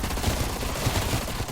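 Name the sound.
FAMAS rifle firing in Cold War Zombies video game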